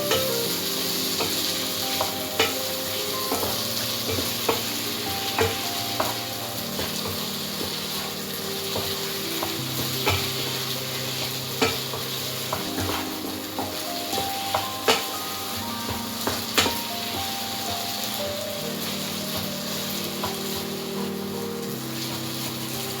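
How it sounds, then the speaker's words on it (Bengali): Sago khichdi with vegetables stirred in a frying pan: a steady close sizzle under repeated scraping and clinking of a spoon against the pan, with no talk. "সাবুর সঙ্গে সবজিগুলো ভালো করে মিশিয়ে"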